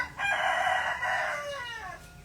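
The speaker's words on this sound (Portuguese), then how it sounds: "Tá aí o galo lembrando a gente que é isso mesmo." A rooster gives a single loud, nearby crow lasting about two seconds, its strained call trailing off into a falling tail, heard alone with no voices.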